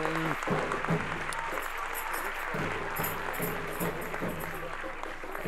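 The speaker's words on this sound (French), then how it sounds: "On peut applaudir ce message de Belém." An audience at a Regen Night 2025 climate event claps steadily and loudly throughout, with faint voices and background sounds mixed under the applause.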